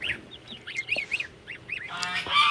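Geese on a farm honk repeatedly in short nasal calls, close and moderately loud, with a burst of noisier honking and flapping-like noise near the end.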